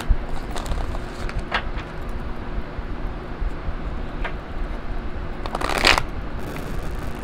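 A Starman Tarot deck being shuffled by hand, soft papery riffles and light flicks in short bursts, with a fuller flurry of card noise toward the end, close and fairly quiet with no talking.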